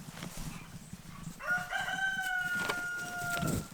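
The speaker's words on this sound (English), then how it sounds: "Why is there a rooster in my garden?" Rooster crowing in a garden: one long, loud, close cock-a-doodle-doo lasting about two seconds, with some clucking and rustling before it.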